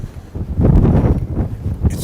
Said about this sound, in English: It's so windy today.